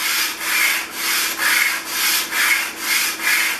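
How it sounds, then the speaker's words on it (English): A steel scraper is rubbed back and forth on 150 grit sandpaper, giving about seven even, gritty rasping strokes in a quick regular rhythm, close up and alone. "I start taking it back and forth over my 150 grit."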